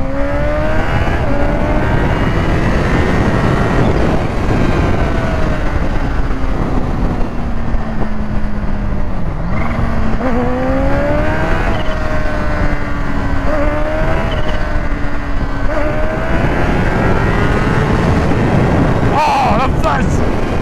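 A Kawasaki Ninja H2 motorcycle engine, loud and close, its pitch climbing and dropping through repeated revs over a steady rumble, with some wind buffeting and voices mixed in.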